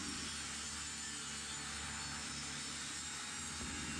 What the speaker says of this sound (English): you're gonna adjust your saw blade so that way it's cutting all the way to that groove and only halfway off the material